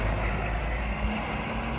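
A bus at Crawley bus station gives off a loud, steady diesel engine rumble at close range, with a low idling drone throughout and no voices.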